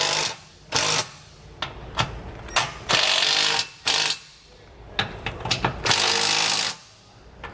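An impact wrench tightening bolts on a Lippert Ground Control fifth wheel RV leveling system mount under the frame, loud rattling bursts of about a second each, repeated roughly eight times with brief pauses, close by.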